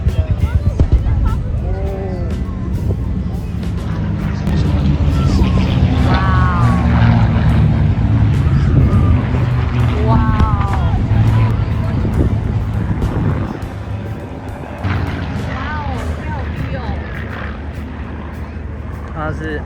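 A WWII fighter plane at the Avalon Airshow roars overhead, a loud sustained engine drone buffeted by wind on the microphone, with people talking over it at times.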